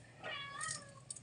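A single drawn-out meow from a cat nearby, rising then falling, over a quiet room.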